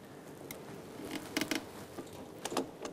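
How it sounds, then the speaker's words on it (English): Bicycle creaking and ticking in a repair stand while a bottom bracket is tightened, a few quiet short creaks and clicks spread across a faint background, with small clusters near the middle and end. "That's just the sound of the bike in the stand"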